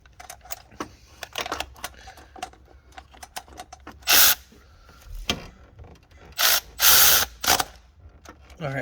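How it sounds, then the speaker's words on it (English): Ratchet tightening an alternator bolt on a 2007 Toyota Camry 3.5L V6, quick close clicking strokes in uneven bursts with a few louder scraping clatters, fairly faint overall. "I'm going to go ahead and tighten down this bolt"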